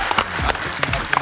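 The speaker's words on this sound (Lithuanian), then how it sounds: "aplodismentai jam." A brief burst of audience applause, dense scattered clapping heard close and loud for about a second.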